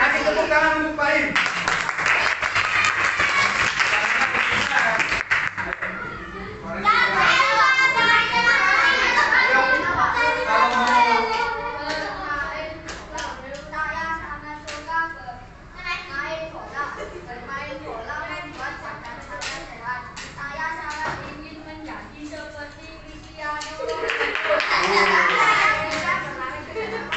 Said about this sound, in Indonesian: Kasih tepuk tangan untuk Baim.